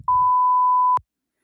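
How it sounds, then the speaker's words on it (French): A single steady electronic beep sound effect, clean and loud, holding one pitch for nearly a second before cutting off abruptly, with a brief low rumble just before it and silence after. "je veux que les élèves entendent un bip"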